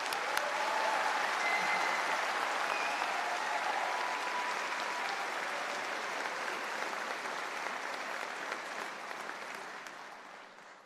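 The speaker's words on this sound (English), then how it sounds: "One more round of applause for all of you." Warm, sustained applause from a large crowd for graduates at the MacEwan University convocation ceremony, dense and steady before slowly tapering off at the end.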